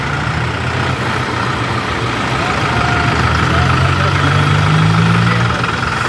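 A tractor engine idles during a farmers' tractor march at the Delhi borders, giving a steady, loud, close low rumble that runs unbroken through the whole stretch.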